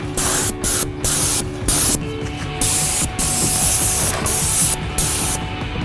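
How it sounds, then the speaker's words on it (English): A paint spray gun lays down a thick opaque base coat in loud bursts of hissing spray, switched on and off repeatedly in short and longer passes, with a low hum between bursts and no talking. "The gun really gets us a nice thick opaque base coat"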